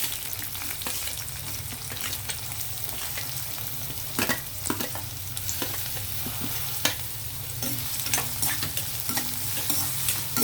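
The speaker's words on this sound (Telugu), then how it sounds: "ఆయిల్ హీట్ అయ్యాక ఆనియన్ వేద్దామండి." Onions fry in hot oil in a kadai with a steady sizzle while a spoon stirs them now and then, scraping and tapping against the pan, close and fairly quiet, with no talking.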